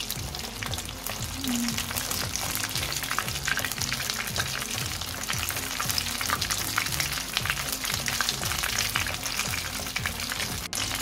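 Battered fish pieces fry in hot oil with a dense, continuous crackling sizzle that stays loud and steady throughout, with no voices.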